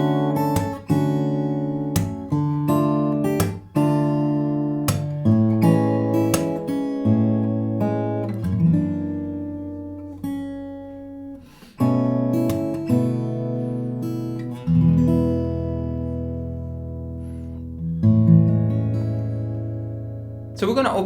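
Guitar chords played with a thumb-slap percussive technique: sharp slapped attacks punctuate ringing chords in a rhythmic pattern, close and clear, with long sustained chords in the later part.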